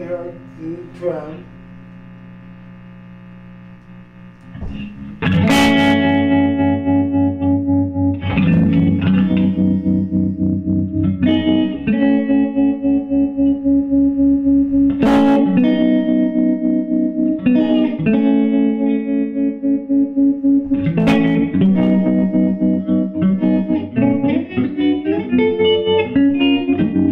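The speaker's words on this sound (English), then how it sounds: "and then you hear the trem." Electric guitar chords ring through a Univox U-1000 amp with a pulsing tremolo effect, the volume wavering rhythmically on each sustained chord after a quieter opening.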